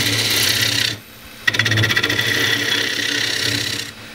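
Bowl gouge squeezing its edge into wood on a lathe, a close rasping cut that drops out briefly and then resumes with a rough rubbing scrape, with no talking.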